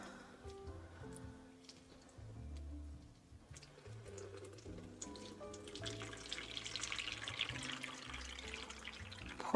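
Water pours and trickles from a watering vessel into a houseplant's pot indoors, a soft uneven splashing that builds and grows brighter toward the end, with faint rustling of leaves.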